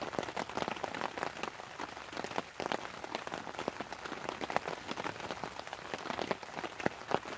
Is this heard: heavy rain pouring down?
yes